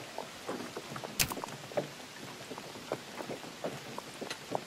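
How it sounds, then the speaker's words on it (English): Heavy rain falling on the trail in The Oregon Trail game, scattered pattering drops with one sharp louder crack early on, moderately quiet and irregular over a low ambient bed. "Heavy clouds roll in quickly and soon thereafter dump their rain"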